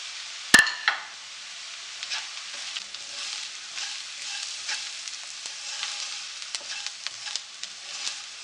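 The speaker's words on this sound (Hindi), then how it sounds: "एक दो मिनट के लिए मैं प्याज के साथ मसालों को भी भून लेती हूँ।" Onions and spices for a samosa filling frying in a little oil, a steady soft sizzle with a sharp clack of a utensil near the start and light stirring scrapes throughout.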